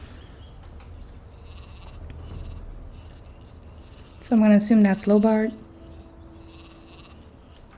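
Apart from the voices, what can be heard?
sheep bleating in the video game Gothic II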